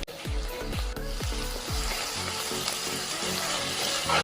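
Noodles frying with soya chunks and soy sauce in a hot oiled pan, a steady close sizzle with a few sharp stirring scrapes near the start, continuous throughout.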